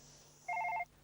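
A single short electronic telephone ring trills briefly against a quiet room hum, with the start of another ring at the very end.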